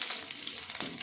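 Spices crackling in hot oil during tempering for a home-cooked dish, a brief, steady sizzle with a sharper burst of pops near the end, close and alone.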